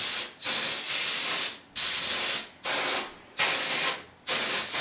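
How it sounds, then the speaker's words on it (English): Canned air blasting dust and hair out of a PS3 console, heard as five or six loud, hissing spray bursts in a steady rhythm with short gaps between them and no talking. "To get rid of all the dust and hair on your PS3, you can use an air compressor or canned air."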